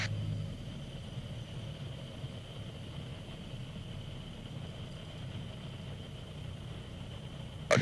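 Aircraft engine idling heard from inside the cockpit during a landing at Exeter, a steady low droning hum with a faint high whine, even throughout, ending in a brief louder burst.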